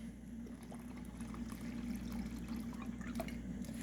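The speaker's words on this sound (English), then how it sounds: "Now I'm going to pour half of this in this batch" Yeast starter poured into a batch of homebrewed beer, giving a steady liquid splash and gurgle that runs unbroken for a few seconds at close range.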